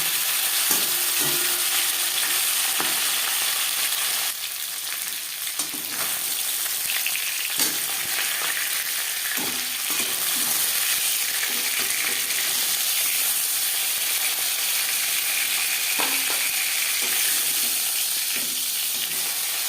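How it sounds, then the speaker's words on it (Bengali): Rui fish frying in hot oil in a wok: a loud, continuous sizzle and hiss close up, broken by occasional scraping and clinking from stirring and turning, with no talking. "একটা সাইড ভাজা হয়ে গেলে অপর সাইডটা উল্টে দেবে"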